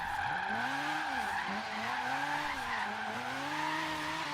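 Tires squeal and skid as a Mazda RX-7 Rocket Bunny drift car in Forza Horizon 3 brakes hard from high speed, with a wavering engine note under a continuous screech, moderately quiet with no talk.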